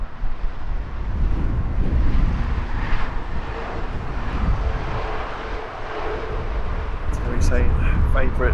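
An airliner in Qatar World Cup livery at Heathrow Airport gives a steady, broad engine roar with some wind buffeting, holding strong throughout and swelling slightly toward the end.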